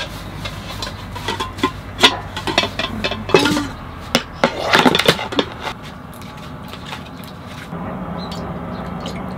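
A metal cooking pot clanks and clinks repeatedly in irregular bursts, close by, at a car campsite, with rattling knocks before settling into a steady low hum.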